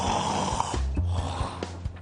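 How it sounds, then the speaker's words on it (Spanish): Loud, close snoring with rough, rattling breaths and a few snorts, heard alone with no talking, set within a Peruvian medical TV segment about bothersome snoring. "Por eso se ronca."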